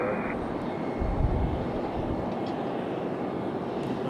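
A JetBlue airliner departing Raleigh-Durham airport gives a quiet, distant steady engine rumble with a brief low swell midway.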